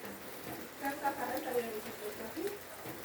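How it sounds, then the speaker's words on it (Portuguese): Rain falls outdoors in a rural yard as a bonfire is being built, making a soft, even hiss with scattered drop patters that carries on throughout. "Pegou a chuva agora, pessoal"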